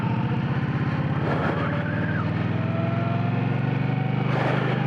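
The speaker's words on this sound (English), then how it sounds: "If you can hear that engine." A motorcycle engine running under light throttle during a riding lesson, a steady close rumble that holds an even pitch throughout with no talking.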